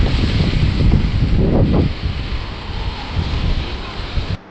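Strong wind buffets the microphone nonstop with loud low rumbling, easing slightly midway, then cutting off abruptly near the end.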